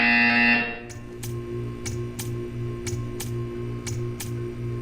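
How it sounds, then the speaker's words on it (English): A Portal 2 video game buzzer sounds short and loud at the start, followed by steady regular ticking pulses over a low mechanical hum. "You will hear a buzzer."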